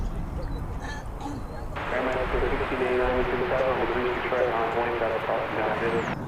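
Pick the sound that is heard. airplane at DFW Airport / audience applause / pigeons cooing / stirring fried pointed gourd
airplane at DFW Airport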